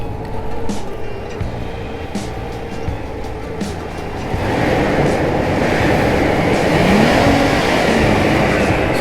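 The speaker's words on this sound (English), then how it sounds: "Bhaiya, please can you rev the car for me once?" Petrol V6 engine of a 2006 Toyota Land Cruiser Prado 120, 4000cc, idling steadily and then revved, the note swelling into a louder, sustained roar about halfway through, close by with no talk.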